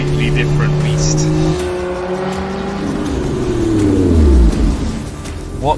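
A 2022 Lotus Emira sports car on the road, its engine note rising and falling with a passing drone, tire noise and speech over much of it.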